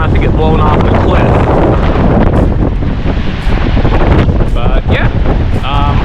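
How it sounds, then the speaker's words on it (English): Strong wind roars at the top of Glymur waterfall in Iceland, buffeting the microphone with a loud, constant rumble while people talk briefly over it. "It's really windy."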